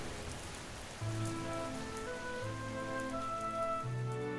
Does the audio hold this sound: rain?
yes